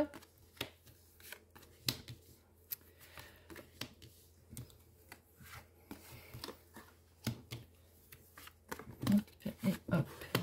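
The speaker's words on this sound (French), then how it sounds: "Tirage à six cartes avec l'oracle des miroirs." Mirror oracle cards shuffled for a six-card draw: a steady run of quick, close papery riffles and soft taps with brief pauses, a little louder near the end, without speech.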